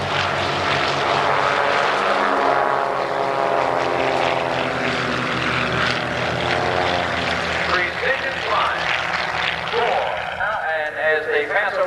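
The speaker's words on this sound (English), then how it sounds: "Now watch them as they gently lift off, and one of the aircraft will slide over into the slot of the diamond formation." Vintage propeller-driven warbirds take off in a diamond formation at a 1988 airshow, a loud sustained multi-engine drone with shifting harmonic tones as they climb and pass, under a commentator's voice on the public address.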